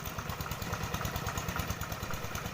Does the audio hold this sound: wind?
no